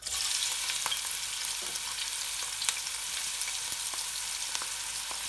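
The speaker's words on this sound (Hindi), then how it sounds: "अब इसमें ये तेल गर्म हो गया है, हमने डालनी है हमारी प्याज" Onions sizzle in hot oil while an Indian chicken akhni pulao is cooked, a steady bright crackle with a few sharp pops and occasional stirring, close by and without talk.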